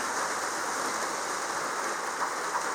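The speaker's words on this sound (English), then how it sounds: "And you can just hear that water coming down there." Heavy rain leaking into an Airstream camper, a steady hissing trickle of water running down inside under continuous rain, with no talk.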